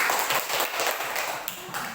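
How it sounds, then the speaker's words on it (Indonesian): A junior high class claps for a classmate named Hercules, a loose, uneven patter of hands in a school classroom, fairly close and steady throughout. "Tepuk tangan dulu untuk Hercules."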